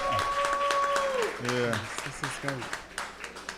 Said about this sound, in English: Let's give another round of applause for the first panel.